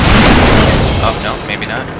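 A tank cannon fires in World of Tanks, opening with a loud, heavy boom that rolls into a rumbling decay and fades over about two seconds.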